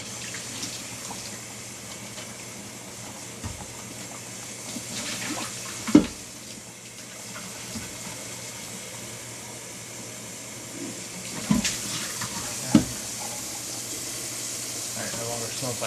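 Cold tap water runs steadily into a sink while cups are rinsed, a continuous close rush with a few sharp knocks and clinks of the cups against the basin.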